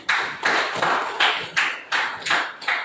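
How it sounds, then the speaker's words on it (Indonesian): Students in a classroom clap hands in unison, giving about eight loud, evenly spaced claps in a regular rhythm, close by and with no voices over them. "Tepuk tangan untuk Hidayah."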